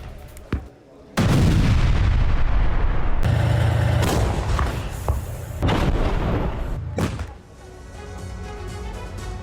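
Russian artillery shelling in Avdiivka booms in several heavy, close blasts with rumbling aftermath, loud and dense for several seconds before subsiding into a lower roar.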